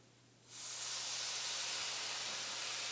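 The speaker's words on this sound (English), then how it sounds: "I'm going to start with our stainless steel pan and put a couple of strips of bacon on that." Bacon strips hitting a preheated stainless steel pan with no oil, a steady loud sizzle that starts suddenly and holds as a constant hiss.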